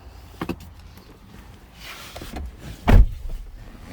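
Electric window motor of a 2018 Toyota 4Runner TRD Pro whirring briefly inside the cabin, with a few small clicks and thumps around it and a sharper knock near the end, close and fairly quiet.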